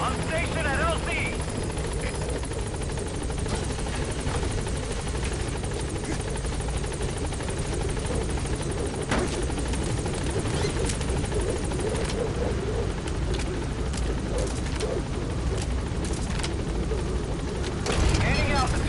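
Game helicopter in Metal Gear Solid V arriving at a landing zone, a loud steady rotor drone filling the whole stretch with sharper bursts mixed in and voices talking over it.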